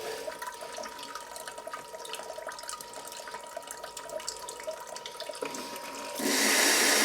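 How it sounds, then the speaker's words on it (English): Water from a BioBidet BB-500 bidet seat sprays steadily during its front wash cycle, a continuous hiss that swells louder and brighter near the end, with no talking. "So let's do a front cycle for feminine wash."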